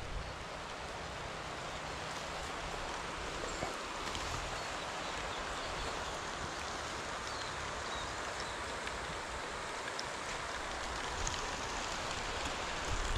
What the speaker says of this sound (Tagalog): Dinayo tayo ng ulan.